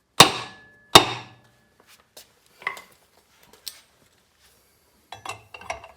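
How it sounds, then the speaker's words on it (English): A removal tool is pounded against an antique car's rear axle: two loud metallic blows open the sequence, then a scatter of lighter taps and clinks, close and with silence between strikes. "when he pounds on it, the axle has the opportunity to drive in a little bit"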